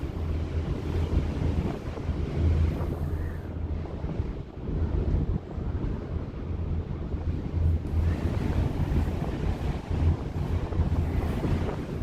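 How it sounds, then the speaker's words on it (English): Strong wind gusts buffet the microphone in a continuous, loud rumble from a Skyliner gondola near the Epcot resorts at Walt Disney World, swelling and easing throughout without any talk. "You can hear the wind."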